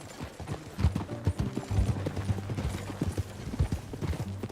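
Hooves clip-clop steadily as a horse is ridden in the Red Dead Redemption 2 video game, a close, rhythmic trot with faint mechanical rattles and no talk.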